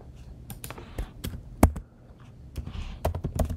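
Keyboard typing while entering TikZ code to draw a Venn diagram circle: irregular bursts of close, crisp key clicks with short pauses between clusters, no talking.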